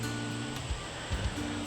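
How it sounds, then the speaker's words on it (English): A creek at a South Dakota park campground flows with a steady broadband rush, close and continuous, with low hums and small thumps beneath it. "So this is the creek."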